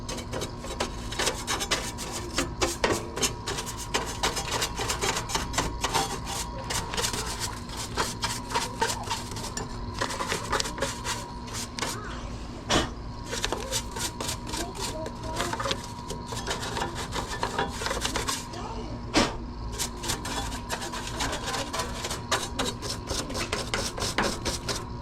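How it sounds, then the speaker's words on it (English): A brush scrubs dust out of an air conditioning unit, giving a long run of quick, rasping strokes in an uneven rhythm, close and fairly loud over a steady low hum. "Oh, where's my brush? Go ahead and get all this little dust and stuff out of here."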